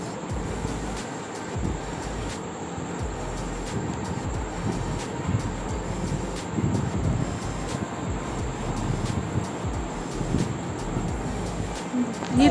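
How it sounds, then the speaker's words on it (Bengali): A train rolls in at a railway crossing, a broad continuous rumble and rushing roar that grows slightly louder toward the end, with wind buffeting the microphone. "ট্রেন চলে এলো"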